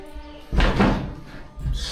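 A door in a vacant house in a cheap Detroit multifamily property opens or shuts with a single close, dull thud that rings briefly, with quiet room tone before and after.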